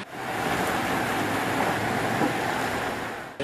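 Heavy downpour on an Istanbul street, a dense, steady hiss of rain falling onto pavement and surfaces, loud and unbroken for several seconds with no voices.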